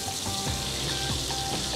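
Duck breast sears in a hot pan with a steady, dense sizzle and crackle of fat, close and even throughout with no talking.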